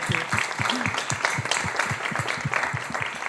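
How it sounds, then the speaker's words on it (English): An audience at a global conversation event applauds, a moderate spread of individual hand claps forming brief applause, somewhat distant and fairly quiet. "he deserves a big round of applause"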